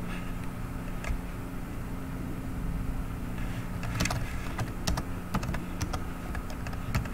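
Rapid clicking of computer keyboard keys comes in irregular bursts, close and crisp over a low steady background hum, with sharper clusters of keystrokes toward the end.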